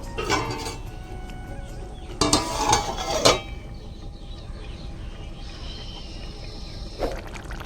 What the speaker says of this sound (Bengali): এবার আমি আবার ঢাকনা দিয়ে ঢেকে দেবো